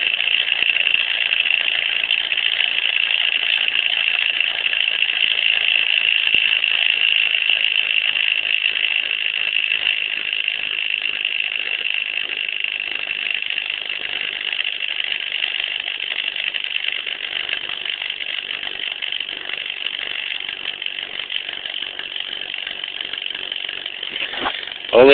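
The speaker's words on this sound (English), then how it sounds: "a good portion of the noise comes from dirt in this stator" A WhiPMag II motor runs with dirt lodged in its stator, giving a steady, loud rushing whine with a rough mechanical edge that holds unchanged throughout, with no voices over it.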